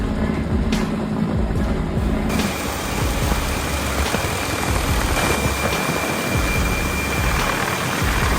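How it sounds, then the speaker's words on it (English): A helicopter working by a riverside to cut a fallen tree off power lines and move it, its engine and rotor roaring loudly and continuously without a break. "A helicopter is trying to cut it down and move it to another location."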